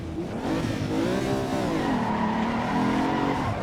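Race car engine in Assetto Corsa EVO pulling away in first gear, a loud rising whine of revs that climbs, dips and climbs again with a hint of tire noise, no speech.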